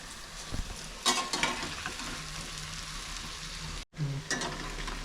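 Pakoda batter fries in hot oil with a continuous close sizzle, broken by brief stirring scrapes and a momentary dropout before the bubbling resumes.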